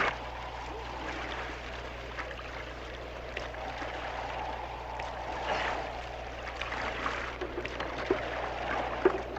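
A raft is paddled across open water at sea, with soft, irregular splashes and water sloshing against a steady low background rumble, fairly quiet and with no clear talking.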